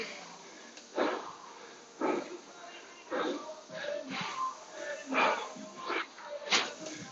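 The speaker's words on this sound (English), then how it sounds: "So breathing it out." Heavy breathing out during a pre-race workout for a 1000 m run: a series of forceful, breathy exhales comes about once a second, close and fairly loud, with no talking.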